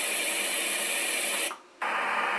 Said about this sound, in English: white noise 3